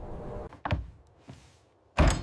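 A cabin door in an icy canyon is pushed shut and sealed against an arriving winter storm: a few dull thuds and a knock, then one loud, close slam near the end.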